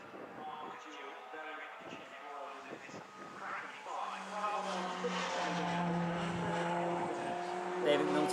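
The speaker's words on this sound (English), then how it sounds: "all three cars very, very close together as they head through the Magus to Chapel complex" Race cars at Silverstone circuit roar past in a close pack, engine notes rising and sustaining as they pass, with a commentator talking over them throughout.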